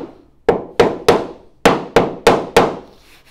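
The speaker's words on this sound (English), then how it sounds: "And I'm going to take a hammer, hit it nice and flat." Seven sharp hammer blows strike screws flush on deck boards during fascia installation, loud and close, in an irregular rhythm with short ringing decays and a brief pause midway.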